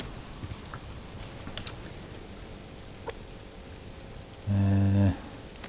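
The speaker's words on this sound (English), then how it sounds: "unfortunately that rain is not going to hold off" Steady rain falls in a video game, a soft continuous hiss of drops filling the whole stretch with a few faint clicks, then a loud tonal burst near the end cuts across it.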